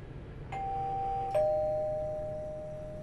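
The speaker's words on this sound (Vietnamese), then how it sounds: "Bấm chuông thử đi coi, nếu mà nó ra mở cửa thì nhà của nó chứ ai." A doorbell rings twice, each press a clear electronic ding that lingers and fades, heard alone at a door in a quiet setting.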